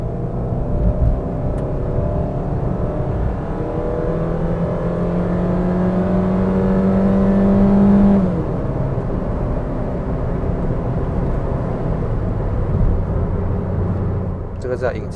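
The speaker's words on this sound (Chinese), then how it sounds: "你听看这辆车 engine 的声音" A Proton Ertiga MPV with a 1.4L Suzuki engine hums and revs steadily from inside the cabin, the tone rising then dropping back smoothly as it shifts, with a voice talking over it.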